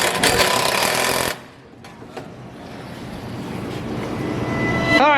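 An impact wrench tightens bolts on a peanut picker, first a loud rapid hammering burst that stops abruptly, then a quieter stretch of engine hum and clatter rising toward the end.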